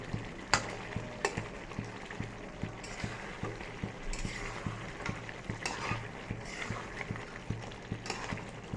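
Soft, mushy potatoes sizzle gently in a pan while a spatula scrapes and stirs them in a regular rhythm of sharp clicks, heard close with no voices.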